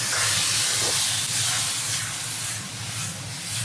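Black pepper sauce hitting a hot wok with beef and bell peppers, a loud steady sizzling hiss that fills the clip, with no talking.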